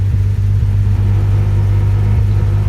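A 1966 Chevy van engine idles steadily with a loud, close, low rumble and a constant drone that barely changes, with no voices.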